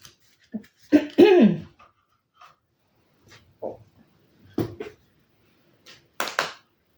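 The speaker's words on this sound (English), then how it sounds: "I hope this cough goes soon" A woman with a lingering cough hacks and clears her throat in a quiet room, several short separate bursts scattered over seven seconds, one stronger double cough early on.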